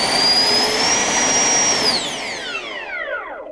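A JP Hobby 90mm all-metal EDF jet fan on an 8s setup, run at low power indoors, gives a loud high-pitched turbine whine that holds steady, then spools down with falling tones.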